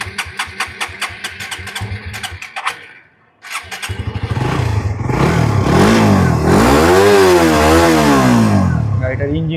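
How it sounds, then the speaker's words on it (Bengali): A Suzuki GSX-R motorcycle engine in good running condition, first ticking over in short uneven bursts, then after a brief lull revving loudly and steadily with rising and falling pitch swells, close and continuous. "গাড়িটার ইঞ্জিন কন্ডিশনটা আপনারা দেখতে পাচ্ছেন কতটা ফ্রেশ, কোনো আউট নয়েজ নাই, খুবই ফ্রেশ।"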